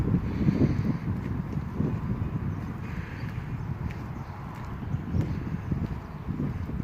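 Outdoor wind of about 10 to 15 in northern Ohio, a steady low rumble buffeting the microphone with faint thumps scattered through it.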